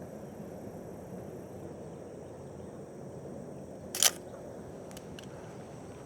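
A film camera shutter fires once outdoors, a single short crisp click over steady low background hiss, followed by faint softer clicks from advancing the film.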